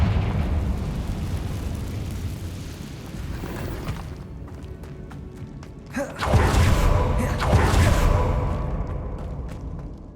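A Confringo blasting spell in Hogwarts Legacy bursts with a loud, close boom partway through, followed by a roaring, rumbling blast that trails off over a background of low game ambience.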